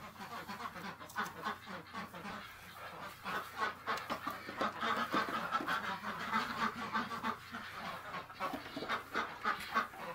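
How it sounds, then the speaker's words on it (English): Many ducks quacking together indoors in a crowded barn on a cold day, a dense continuous chorus of overlapping quacks and honking calls, close and loud with no pauses. "There's so many ducks in here."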